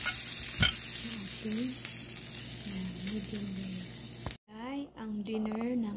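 Hash browns and a medium rare steak sizzle steadily in a pan, a constant loud fry under someone speaking, with brief stirring and a short drop in sound near the end.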